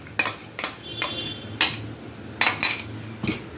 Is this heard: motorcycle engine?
no